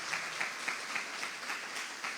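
A church congregation clapping in praise during a Portuguese-language worship service, a soft, fairly distant rhythmic patter of many hands with regular pulses, with no voices over it.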